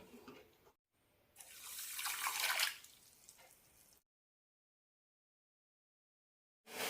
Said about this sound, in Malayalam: അതിലേക്ക് അരക്കപ്പ് കപ്പ് വെള്ളം ഒഴിച്ചു കൊടുക്കാം